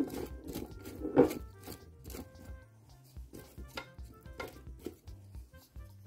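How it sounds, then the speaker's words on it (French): Potato pieces and peppers being tipped and spread around an air fryer basket, giving scattered soft scrapes, crunches and knocks at close range with quiet gaps between them. "Et là je viens passer mes pommes de terre et mes poivrons. Hop. Je les étale bien."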